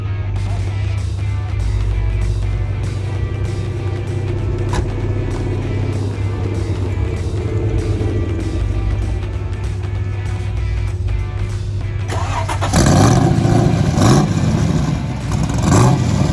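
A De Tomaso Pantera's engine runs at a car show, a loud, deep, close rumbling idle that swells into a harsher, louder rev toward the end.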